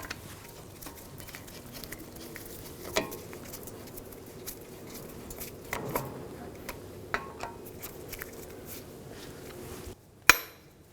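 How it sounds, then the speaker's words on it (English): A hammer drives a punch to stake the front axle nut on a 2013-2017 Honda Accord: a few faint, sharp metallic taps spread over a quiet background, ending with one louder, crisp strike. "Using a hammer and a punch, we're going to stake the axle nut."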